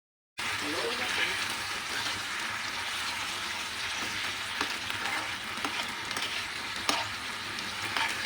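Fish sizzling in a frying pan with vinegar while being stirred, a steady close crackle of frying with occasional scraping and clinks throughout.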